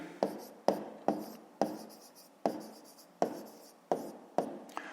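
Handwriting on paper while a math exercise about prices is worked through, with about ten brisk, evenly spaced strokes scratching close by, each one starting crisply and fading, and no voices.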